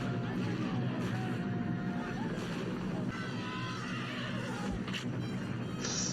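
A steady rumble of many horses' hooves coming at pace fills the air while horses whinny and neigh over it, with wind buffeting the microphone, from the 1989 western Lonesome Dove.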